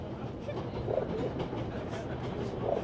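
Train running on rails in the game 11-11 Memories Retold, a wartime German train: a quiet, steady low rumble with soft rhythmic wheel clatter, continuous and fairly distant, with no talk.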